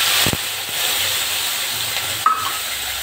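Ginger paste hits hot oil and sends up a steady, bright hiss of frying that holds evenly throughout, with a couple of small clicks.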